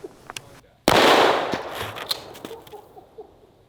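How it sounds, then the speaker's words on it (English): A double-aught buckshot shotgun blast from a Mossberg Shockwave fired at cheap body armor: a single sharp, loud broadband boom that rings out and decays over about two seconds, with faint scattered clicks around it. "This is a very powerful double-aught buckshot, and we're shooting it out of the Mossberg Shockwave."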